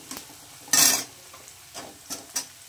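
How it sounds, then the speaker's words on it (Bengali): Chopped onion and green chili in hot white oil give short bursts of sizzle and stirring scrapes, one louder rush near the start and a few lighter strokes after, with quiet gaps between. "কাঁচা পেঁয়াজ আর লঙ্কা কুচি আমি সাদা তেলের মধ্যে দিয়ে দিয়েছি।"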